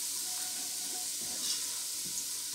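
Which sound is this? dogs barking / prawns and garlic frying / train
prawns and garlic frying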